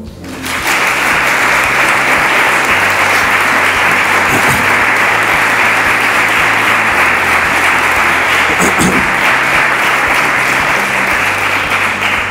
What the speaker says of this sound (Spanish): Yo voy a pedir de nuevo un fortísimo aplauso para todos y cada uno de los premiados